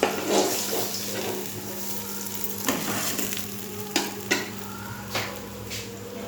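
Large pieces of fish fry in oil in a wok, giving a steady close sizzle with a faint low hum underneath and a few sharp clinks of a utensil against the pan.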